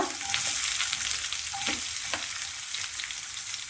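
Mustard seeds, fennel, crushed garlic and onion fry in coconut oil in a kadai, a loud, close crackling sizzle punctuated by a few spoon scrapes.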